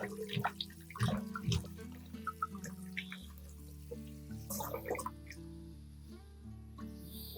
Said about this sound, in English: Rinse it 1 or 2 more times.